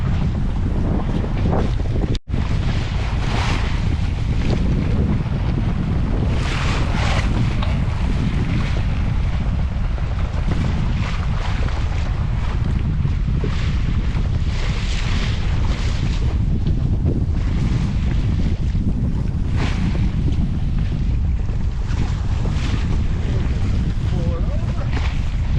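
A junk-rig sailboat cruises at about four knots under only its mainsail, half raised, in a 15-knot breeze with whitecaps, giving a continuous loud rush of wind across the microphone and water sounds, with people talking now and then.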